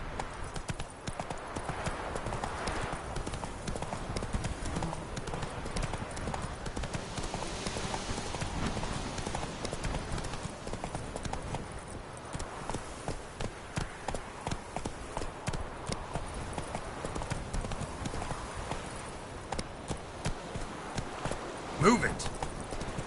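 Roach the horse in the video game The Witcher 3 trots along, a steady clip-clop of hooves repeating evenly and up close for a long stretch, with a brief sharper knock near the end.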